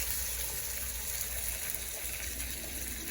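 Cold water pours into a hot pan of browned flour for gravy, giving a steady hissing rush of liquid and sizzle that holds evenly throughout, close and alone.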